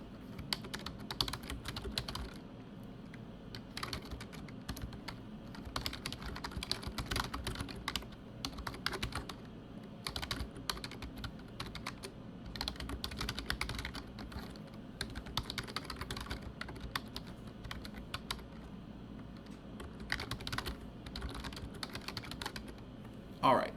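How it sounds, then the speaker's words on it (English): Fingers type steadily on a computer keyboard, a quiet, continuous patter of fast light keystrokes with occasional louder key presses, heard close up in a calm room. "I'm going to go ahead and start typing"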